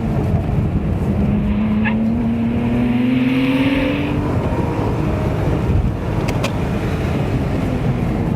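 A 2011 Porsche Boxster Spyder sports car lapping a street circuit, its engine droning steadily from inside the cabin with a rising pitch as it accelerates through the gears, continuous and close throughout.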